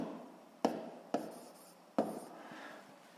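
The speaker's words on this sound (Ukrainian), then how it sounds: "давайте запишемо формулу ρ дорівнює m, що ділиться на v, пишемо" A physics formula being written by hand, heard as three crisp tapping strokes followed by soft scratchy scraping, quiet and close with no one speaking.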